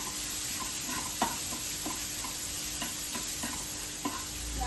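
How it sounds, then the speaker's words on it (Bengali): Chopped onion frying in a pan for a bhorta of kundru, a steady sizzle with a few light scraping taps of stirring at intervals. "আর পেঁয়াজ কুচিটা দিয়ে দেবো। এটা একটু ভাজা ভাজা হয়ে যাক"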